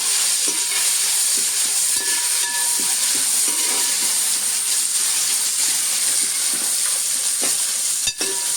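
Chopped coconut pieces frying in hot oil for a Kerala-style nadan chicken roast, a steady loud sizzle and hiss with intermittent scraping stirs, close and continuous.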